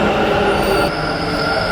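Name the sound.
metro train arriving at station in Bengaluru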